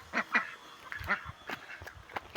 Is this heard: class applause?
no